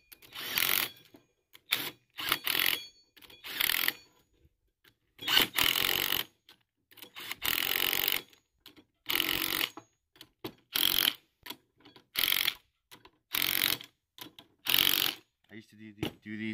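A Harbor Freight ratcheting wrench working hardware during tree cabling, a series of short rapid clicking bursts about a second long, repeated a dozen times with brief gaps, close and fairly loud.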